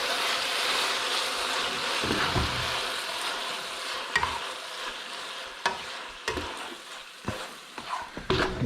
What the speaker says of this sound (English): A quick little stir.